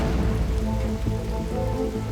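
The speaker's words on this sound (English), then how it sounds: "They say that rain is good luck." Steady rain patters on surfaces outdoors on a wedding day, a dense continuous hiss with no voices.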